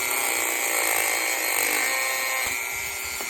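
A power tool cuts a B5 Passat door handle along a marked line, a steady, loud high-pitched whine with gritty grinding, running continuously, close up, with no talking.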